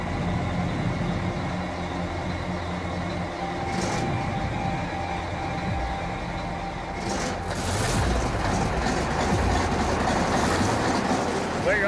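A bulldozer's engine, not run for five years, turns over and rumbles into a steady heavy idle, rising in loudness toward the end, with low background talk at a gold-mining site.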